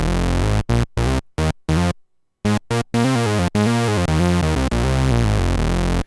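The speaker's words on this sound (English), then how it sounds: "what you're hearing right now is this synthesizer" Behringer Model D analog synthesizer bass dropped an octave for a 90s R&B new jack line, a rhythmic run of short, punchy low notes broken by a brief gap, then longer held tones, loud and alone.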